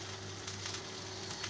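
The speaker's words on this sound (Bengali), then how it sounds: "এখন এটা ভাজা ভাজা করব।" Taro paste fries with nigella seeds in hot oil, giving a steady, close sizzle that stays even throughout.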